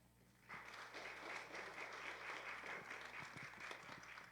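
A church congregation breaks into applause during a revival worship service, a dense, even wash of clapping that starts abruptly and holds steady, heard from a distance over a low hum.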